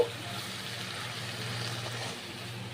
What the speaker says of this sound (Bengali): এবার আমি জল অ্যাড করব।